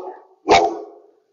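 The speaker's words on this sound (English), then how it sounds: "My dog is seeing another dog out the window." A dog barks once, sharply and up close, at another dog seen outside a window, with a softer whine or whimper before the bark and a fading tail after it.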